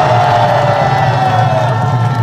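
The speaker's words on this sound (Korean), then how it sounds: "여러분도 같은 뜻이면 우리 함성 한번 지릅시다" A large crowd at a Hong Joon-pyo campaign rally in Daejeon roars and cheers in one sustained, dense wall of shouting that holds steady and loud throughout.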